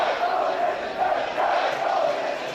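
Baseball fans in the stands at an LSU versus Texas A&M game chant a rhythmic cheer together, a loud, steady crowd roar with pulsing swells and no break.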